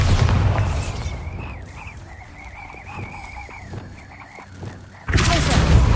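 A Bombarda blast spell in Hogwarts Legacy, heavy booming bursts at the start and again near the end, loud and close, with combat sounds and a tonal whine between them.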